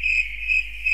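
A cricket mob from a Minecraft Pocket Edition addon chirps steadily, a high, clear, repeating insect trill heard alone without talk.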